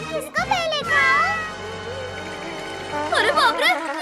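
High, wavering cartoon cat cries with rising and falling pitch, loud and close over a soft background, with a brief child-like voice.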